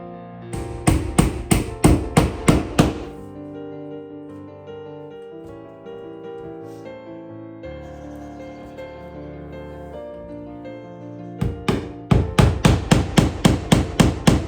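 Hand hammering board and batten panels during a bathroom makeover, done without a nail gun: two fast runs of sharp, evenly spaced hammer strikes, close and loud, at the start and end, with a quieter stretch of tonal background sound between them.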